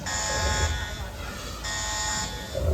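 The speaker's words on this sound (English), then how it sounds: "Whoa, sound the alarm." A loud electronic alarm buzzer blares in two long bursts separated by a short pause during a raptor show at Universal Studios Hollywood, with a rumbling background noise throughout.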